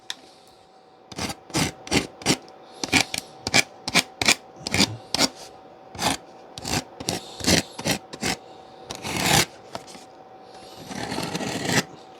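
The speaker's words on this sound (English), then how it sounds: "Just make little dents and dings and depressions in the foam." Foam surface of an FGFRC Avios Super Tucano RC airplane model being scored and dented, a rapid series of sharp scraping strokes in an uneven rhythm, close and fairly loud, ending in longer rubbing passes.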